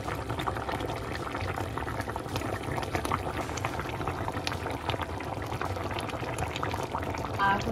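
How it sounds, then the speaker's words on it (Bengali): Jackfruit curry gravy simmers in a pan, a continuous close bubbling with small popping bursts throughout, steady and fairly loud, with no voices over it. "তরকারির এই তো ঝোল প্রায় শুকিয়ে আসতেছে।"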